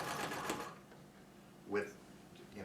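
A Singer 66 treadle sewing machine in a parlor cabinet runs quietly in short mechanical bursts, faint and close, with a brief louder clunk of stitching partway through.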